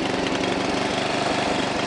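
A lawn mower engine runs loud and steady close by, a continuous drone with a throbbing low pulse throughout.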